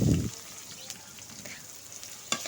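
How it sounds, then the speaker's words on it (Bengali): Onions frying in oil in a wok before fish is cooked: a steady, close sizzle with a brief louder burst at the start and a few faint clinks, with no talking. "আমি আবার কড়াইয়ের মধ্যে তেল দিয়ে একটু পেঁয়াজ ভেজে নিচ্ছি"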